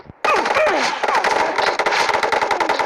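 Gunfire in a video game, a sustained rapid burst of automatic shots that runs almost continuously and loudly after a brief quiet start.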